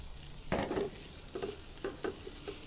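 Onions caramelizing in a pan, a gentle sizzle broken by several distinct scraping stir strokes, close and moderately loud, with no voices.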